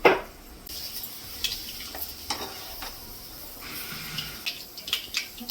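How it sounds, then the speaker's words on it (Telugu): Mustard seeds and fenugreek seeds fry in hot oil for a tamarind-style fish curry, a faint sizzle with scattered light pops and quiet stirring scrapes against the pan. "1/2 టేబుల్ స్పూన్ మెంతులు. ఇవి కొంచెం ఫ్రై చేసుకుందాం."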